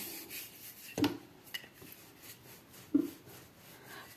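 Dough made from herbs and greens being rolled out to about 2 cm thick makes soft rubbing and scraping strokes close by, with two firmer knocks of the rolling pin, and no one talks.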